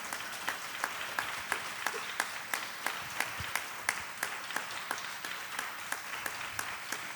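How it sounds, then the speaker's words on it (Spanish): Congregation clapping to the Lord at a worship service, a rhythmic, evenly paced beat of claps in unison standing out over a softer bed of scattered clapping, moderately distant. "Dale un fuerte aplauso al Señor"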